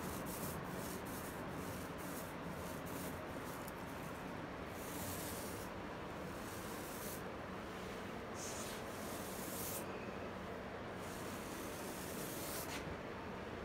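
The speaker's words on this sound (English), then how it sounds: "come back and hit it again with just some hand sanding" Continuous hand sanding of primer on the deck of a 1980 AMF Sunfish Viper sailboat, close-up steady rubbing strokes with a gritty, hissing texture in a regular back-and-forth rhythm.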